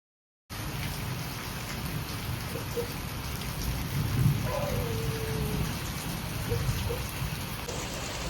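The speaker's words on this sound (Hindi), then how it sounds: "बारिश स्टार्ट हो गई बहुत तेज़" Heavy rain pours down steadily outdoors on a motorcycle ride toward Dharchula, a dense, continuous hiss of drops striking surfaces. It begins after a brief silence, and a low rumble of thunder rolls in partway through.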